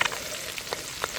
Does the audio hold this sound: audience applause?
no